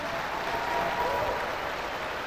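A Sunday morning church congregation in Goa claps in praise, producing dense, continuous applause that fills the room with a crowd murmur underneath.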